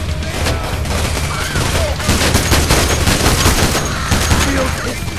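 Sustained, dense gunfire from a PAYDAY The Heist heist shootout, loud rapid automatic bursts overlapping without pause, with occasional shouted voices under the shooting.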